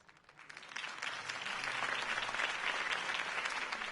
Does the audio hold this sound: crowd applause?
yes